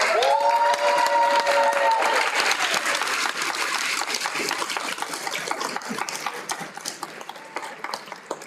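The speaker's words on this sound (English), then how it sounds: "please join me in applauding the next generation of teachers and industry professionals" An audience at a technical college signing day ceremony applauds students, sustained clapping that opens over a brief tone and gradually thins and softens toward the end.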